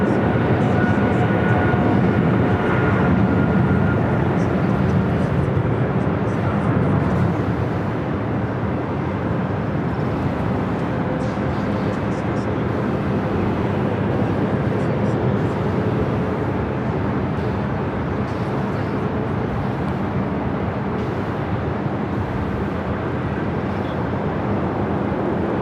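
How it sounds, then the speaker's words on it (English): An Eva Air Boeing 777-300ER on its takeoff roll down runway 25 right at Los Angeles airport, a steady, broad jet engine roar heard from a distance that stays sustained throughout, with some talk over it. "I believe we have that Eva Air 777-300ER. Now rocking and rolling down at 25 right."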